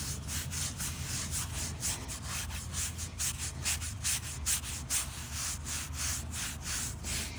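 A brush scrubs an 1800s headstone in quick rhythmic back-and-forth strokes, a close, fairly quiet rasping that keeps a steady pace with no talking.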